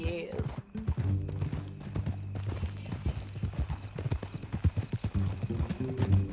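Horse hooves clip-clop in a steady walking rhythm in Red Dead Redemption 2, close and clear throughout, with a brief whinny near the start and low background game sounds.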